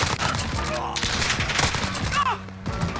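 Rapid automatic fire from a CR-56 AMAX assault rifle in Modern Warfare, a loud continuous burst running nearly the whole time with a brief gap, mixed with game effects and a faint voice underneath.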